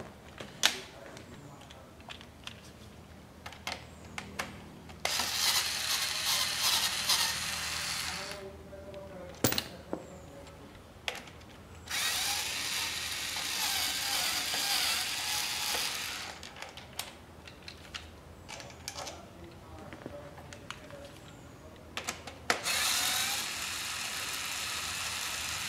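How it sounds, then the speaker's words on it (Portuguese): Four screws are removed from the handlebar risers of a Yamaha XV 250 Virago motorcycle, with ratcheting clicks in several bursts separated by quiet gaps, plus scattered close metallic taps and tool handling. "Então agora a gente vai tirar os 4 parafusos"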